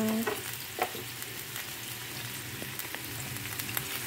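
Onions sizzle steadily in olive oil in a pan before egg is added, with a constant close frying hiss and occasional stirring scrapes, no talking.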